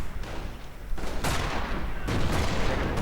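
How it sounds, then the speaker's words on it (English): Artillery barrages and gunfire in an XCOM-style strategy game, a dense rumbling fusillade with bursts of impact noise that swell louder near the middle and end, heard alone without talk. "he's calling down artillery right on the spot"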